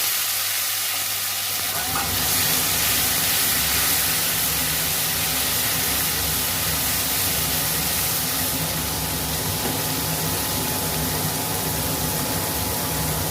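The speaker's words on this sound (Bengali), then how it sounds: "পেঁয়াজ আদা রসুন বাটাটা ভেজে রেখেছিলাম সেটা বেটে নিয়েছি তেলের মধ্যে দিয়ে দিলাম" Onion, ginger and garlic paste, fried earlier, drops into hot oil for a Bengali home-cooked dish, setting off a loud, steady sizzle and hiss that starts after a brief quiet and runs on without a break, with no talking.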